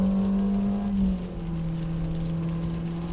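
A 2023 Nissan Versa accelerating through its tired continuously variable automatic transmission, a loud, steady engine drone with a sustained whine whose pitch drops once as the revs settle, then holds level.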